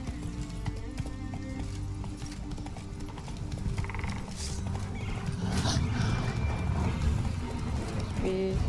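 A horse in The Witcher 3 gallops with a rapid, continuous clip-clop of hooves over steady ambient game sound, growing slightly louder toward the end.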